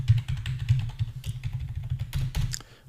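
Code goes in on a computer keyboard in quick, uneven bursts of close keystrokes with short pauses, and no voice is heard.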